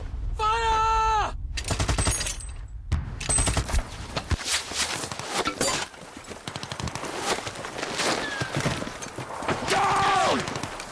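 Rifle volley and scattered gunfire at a First World War reenactment on the fields of La Boisselle, loud, cracking shots in quick succession amid shouted commands and outdoor bustle.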